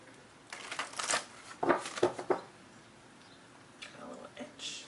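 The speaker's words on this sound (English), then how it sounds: "To cut the deck here and do a heart shuffle 3 times." Several quick bursts of riffling tarot cards during a reading, close and crisp, followed by softer shuffling and handling sounds.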